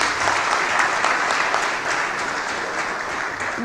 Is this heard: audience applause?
yes